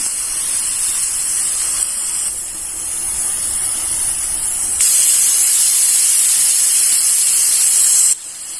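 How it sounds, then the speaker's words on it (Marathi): A pressure cooker whistle releases a steady, loud hiss of escaping steam while cooking pigeon pea pods, swelling stronger midway before cutting back abruptly near the end. "इथे आता एक शिट्टी झालेली आहे"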